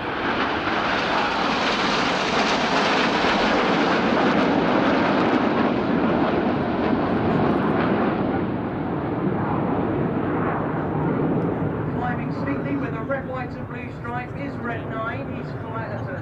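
A Red Arrows RAF Hawk aerobatic jet flies low past at an air display, a loud sustained roar that slowly fades and shifts as it passes, with a commentator speaking over it.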